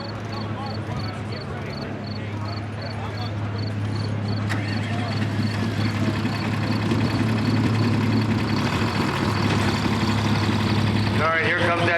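A John Deere pulling tractor engine runs with a steady low rumble and droning hum at a tractor and truck pull in Lisbon, Ohio, growing slightly louder, while an announcer talks over it.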